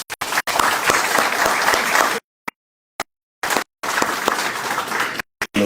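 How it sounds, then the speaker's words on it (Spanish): Audience applause closing a penal law conference and colloquium, with dense clapping from a room full of people, cut by several abrupt silent gaps. "El aplauso es para ustedes."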